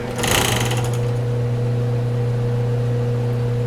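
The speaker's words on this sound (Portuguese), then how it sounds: "Agora eu vou passar uma costura no contorno desse bojo." A sewing machine stitching around the contour of a bra cup, loud steady motor hum with a fast mechanical rattle of the needle that is strongest at the start, running continuously and close.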